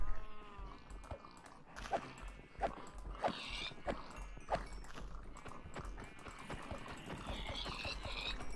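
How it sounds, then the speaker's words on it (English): Minecraft sheep bleat in repeated short calls amid game sounds, with several bleats spaced over several seconds against a steady background of ambient noise and no talk. "I'm going to go kill a load of sheep, pigs as well."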